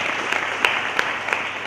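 A church congregation claps along in praise during a sermon, giving a steady, moderately loud wash of applause with a few sharper claps standing out at regular intervals.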